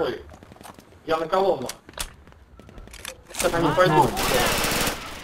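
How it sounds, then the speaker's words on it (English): Bursts of machine gun fire in the World War II shooter Red Orchestra during a multiplayer match, loud rapid rattling volleys in several bursts mixed with voices talking over them. "But he's pinned down by MG Fire."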